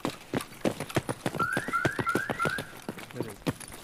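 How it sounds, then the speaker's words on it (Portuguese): Car alarm in Escape From Tarkov sounds a run of short rising electronic chirps mid-clip, set among quick footstep-like clatter and game noise. "Só pra gente sair de perto por causa do alarme."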